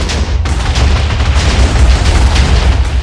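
TNT detonating in Minecraft near a desert pyramid: a loud booming blast lands early, then a dense, rumbling roar carries on to the end, with no talking.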